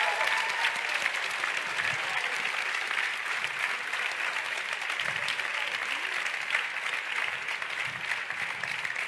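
A live grand final crowd gives a sustained round of applause, dense and steady clapping from many hands with faint cheers, holding at an even level throughout.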